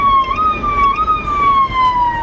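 A Miami police car siren wails close and loud, its pitch sliding in a slow sweeping tone that holds steady over a faint road rumble.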